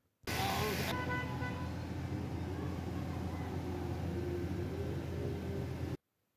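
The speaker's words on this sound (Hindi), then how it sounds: "सब कोड क्लियर हो गए हैं मगर इंजन आरपी में ऐसे के ऐसे ही हाई है" A Toyota Corolla engine runs at an abnormally high idle, giving a steady, unbroken drone that starts and cuts off abruptly, with no change in pitch.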